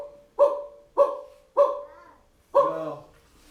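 A dog barks four times in quick, sharp succession, close and fairly loud, with short pauses between barks.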